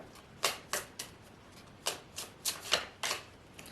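Tarot cards being shuffled by hand, a series of crisp riffling bursts in an uneven rhythm, close and clear in a quiet room with no talking.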